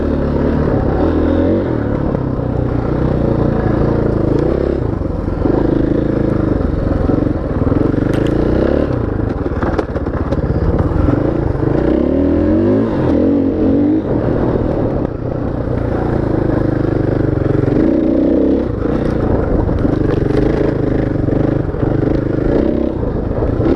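A motorcycle ridden along a dirt trail, engine loud and continuous close by, rising and falling as the rider works the throttle, with rattling and clatter from the rough ground.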